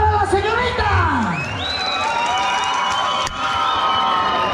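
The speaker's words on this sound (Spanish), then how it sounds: "vamos a calificarlas por medio de un fuerte aplauso" A crowd at a Mexican jaripeo rodeo cheers and shouts loudly, a dense, sustained wall of voices and whoops with clapping, while an announcer's amplified voice carries over it.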